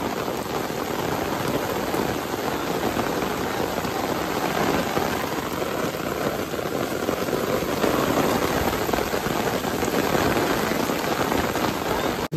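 Heavy rain pours steadily during a downpour at a pond where fish are being caught, a dense, unbroken hiss that stays loud and close for the whole stretch.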